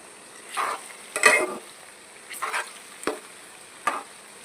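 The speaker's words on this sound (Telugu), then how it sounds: "ఇలాంటి గరిటతోనే తిప్పుకోవాలండి," A ladle stirs bitter gourd fry in a pan, giving soft scraping sweeps with a light sizzle between them; five or six short strokes come at an uneven pace, close by and fairly quiet, with no talking.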